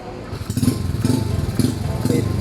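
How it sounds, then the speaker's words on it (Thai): A Honda Dream motorcycle fitted with a CB150 cylinder starts up for the first time after assembly and settles into a loud, close, fast, steady chugging idle. "เราจะมาสตาร์ทเครื่องครั้งแรก อันนี้คือหลังจากประกอบเสร็จนะครับ สตาร์ทเครื่องครั้งแรกนะ"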